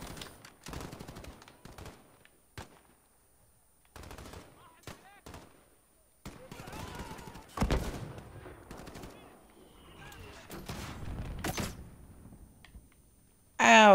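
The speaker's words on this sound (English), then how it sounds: "Ow, that was a flashbang. That was not a smoke grenade." Flashbang grenade going off in Call of Duty Modern Warfare, among scattered sharp bursts of gunfire and clicks across a quieter stretch, ending with a sudden loud blast and ringing tone.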